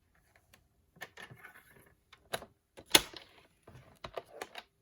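Cardstock being scored on a scoring board for a gift card holder envelope, a quiet series of scattered sharp taps and scraping clicks, one louder snap near the middle, close and alone.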